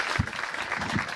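Audience applause at a televised farmers' forum on sugarcane cultivation, a short burst of steady clapping at moderate volume without any talking.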